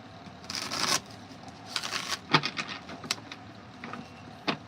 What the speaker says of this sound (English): Hold on, I want to shuffle that one more time.